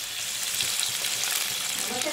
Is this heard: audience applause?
no